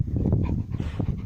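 A Cane Corso mix dog panting close up, quick rhythmic breaths with a faint whimpery edge, loud and near with no talking over it.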